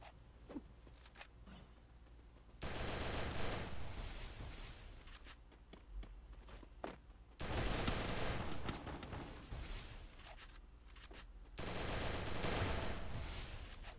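Automatic weapon fire in Free Fire mobile, including an AUG rifle: three long loud bursts of rapid gunfire separated by quieter gaps holding scattered single shots and clicks.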